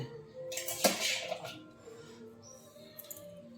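A metal plate is handled and set down in a home during Saraswati puja: a faint clatter and clink of metalware, one sharper knock near the start, then quieter scrapes and small taps against room tone.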